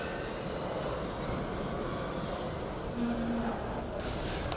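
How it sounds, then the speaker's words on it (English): Formula Student race car number 62 passes on track at an endurance event, with a steady engine rumble and a brief squealing brake tone emerging near the end, mid-distance and moderately loud. "a familiar noise, meanwhile, emanating here on track, car number 62, with the Chewbacca brakes"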